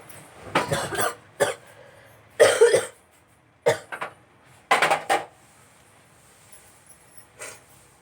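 Repeated harsh coughing fits from an adult with a cold and sore throat, close and loud, in bursts of one to three coughs separated by quiet pauses, with no talking.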